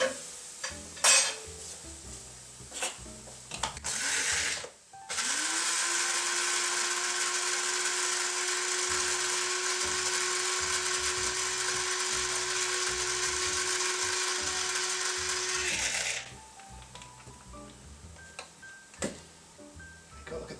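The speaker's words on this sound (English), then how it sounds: "Nothing to beat a coffee grinder for this sort of job." An electric coffee grinder grinding whole spices whirs loudly and steadily for about eleven seconds, close by. Light kitchen clatter comes before and after.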